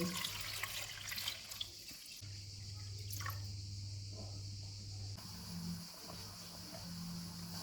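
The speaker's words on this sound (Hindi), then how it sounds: "इनमें पानी डालेंगे और उबाल लेंगे।" Water runs steadily from a tap into a pot of small potatoes, a continuous close splashing flow that shifts in tone partway through, with no voices.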